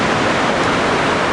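Steady broadband surf and breaking ocean waves at a beach in Anglet during a light wind, a continuous close wash of noise filling the short stretch without any voices.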